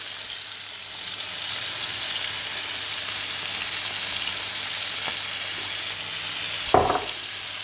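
Rice, about 300 grams, sizzles steadily as it is stirred through hot pan juices, a constant close frying hiss with a single sharper scrape or clatter near the end.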